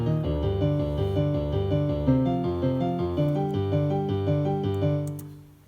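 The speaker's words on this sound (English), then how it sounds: "it'll give you an ARP that sounds like this" Arpeggiated synth chords built from stock FL Studio plugins, a rapid even pattern of stepping notes cycling through changing chords, bright and steady before fading out at the end.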